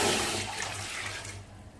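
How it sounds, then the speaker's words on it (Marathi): Water pouring from a pot into another pot set on a gas stove, heating water for rice-flour papad dough; a steady loud rush that gradually eases over under two seconds, with no talking. "आपण ज्या टोपाने तांदळाचं पीठ मोजून घेतलंय त्या टोपाने 2 टोप आधी पाणी घालायचं."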